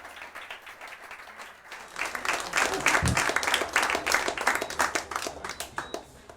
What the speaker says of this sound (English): Another round of applause for Erik for his wonderful presentation